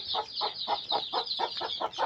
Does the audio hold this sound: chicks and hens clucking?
yes